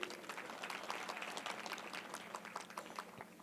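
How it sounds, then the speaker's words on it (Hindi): An audience at a Republic Day poetry gathering claps lightly and unevenly, scattered soft hand claps spread across a few seconds at fairly low volume. "यहाँ तालियां बजती है।"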